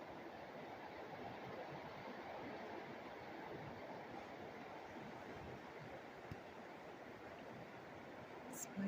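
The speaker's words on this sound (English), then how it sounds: "But listen to that rain." Heavy rain pours onto a newly installed roof during a historic house renovation in upstate New York, a steady, dense hiss that holds at an even loudness throughout.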